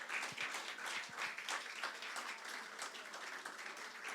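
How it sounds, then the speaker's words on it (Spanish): Congregation clapping during a Sunday church service, a steady moderately quiet wash of applause that holds for a few seconds with scattered claps standing out near the start. "Dale la gloria y el aplauso al Señor."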